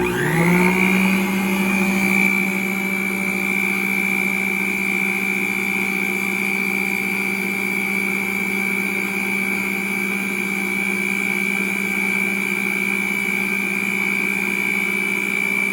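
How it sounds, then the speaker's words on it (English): A stand mixer beats cake pop batter with a loud, steady motor whine that spins up in the first second and then holds an even, unbroken drone throughout. "Put this in the stand mixer so it'll be easier to blend all together."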